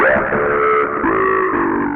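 Distorted bass guitar through a Ghost pedal, a thick, buzzing sustained note with a few changes in pitch, steady and loud, with no talking.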